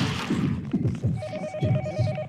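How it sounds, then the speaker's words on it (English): A telephone rings in the horror game Yomawari: Midnight Shadows, a steady electronic bell tone that starts partway in and repeats in short pulses over low rumbling game ambience. "You need to answer that phone."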